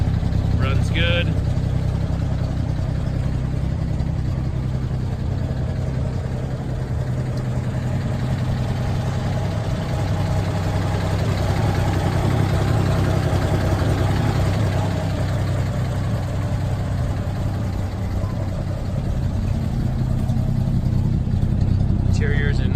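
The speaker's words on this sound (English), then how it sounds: "Original 6-cylinder motor running right now. Sounds great, runs good." A 1949 GMC truck's original six-cylinder engine idles steadily, a continuous low rumble that stays loud and even throughout, with no audible talk over it.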